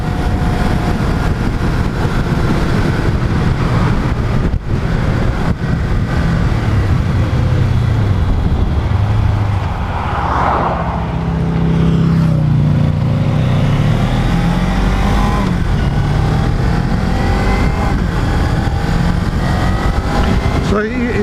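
A Suzuki GSX-R motorcycle engine drones continuously and loud, pitch rising and settling as the rider shifts up through the gears on back roads, with some wind noise.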